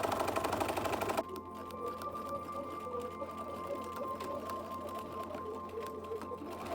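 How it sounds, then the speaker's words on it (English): A serger sewing machine finishes garment seams for a Simplicity S3189 pattern, with a loud, fast mechanical whir at first, then a quieter, steady running rattle. "I'm going to use a serger"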